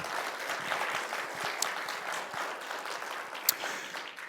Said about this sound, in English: I want to give them one more round of applause too for helping us out today.